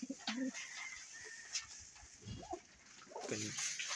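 Pigeons coo softly in a few low, throaty bursts, fairly close but quiet, over a faint background hiss.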